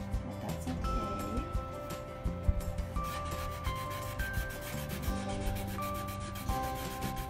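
Rubbing along painted wooden edges to create a distressed chippy look: steady, close scraping and rubbing strokes in an uneven rhythm over faint background music.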